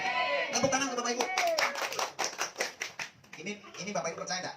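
Audience at an Islamic religious outreach gathering in Cikalong, Sidareja, Cilacap breaks into a few seconds of brisk, close hand clapping that overlaps a speaking voice and tapers into continued talk.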